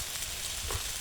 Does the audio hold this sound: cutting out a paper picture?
no